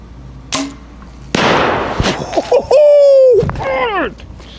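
An arrow strikes an exploding archery target outdoors, a sharp release and loud burst, then a rising excited vocal shout and cheering nearby.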